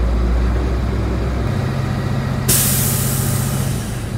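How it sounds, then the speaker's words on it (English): A truck's air brake tanks fill with the pedal pressed during a CDL in-cab brake inspection, a loud close engine run with a sudden hiss of air that keeps going, then a low steady rumble, no voices. "To perform that test, I need to first fill up my tanks, step on the pedal"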